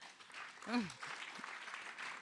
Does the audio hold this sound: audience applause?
yes